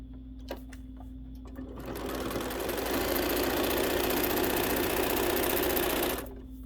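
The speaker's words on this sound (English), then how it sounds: "And then we will go put it under the machine." A sewing machine stitches foundation paper piecing for an Economy quilt block in one continuous run of roughly four seconds, loud and steady over a low background hum, with no speech.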